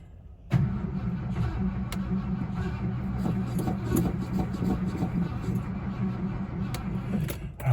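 A car engine low on fuel cranks without catching, a continuous whirring starter drone running for several seconds with faint clicks, no voices over it.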